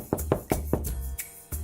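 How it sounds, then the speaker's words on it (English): Knocks land on a door in a quick series of sharp, close raps, a few in fast succession, then a pause, then another knock, clear and alone without talk. "The hungry wolf knocked on the door."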